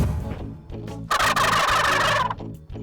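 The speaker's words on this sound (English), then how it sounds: "he is just gobbling his head off" A wild turkey lets out a loud, rattling gobble in the middle of the clip during a spring bowhunt, standing out over a quieter outdoor background.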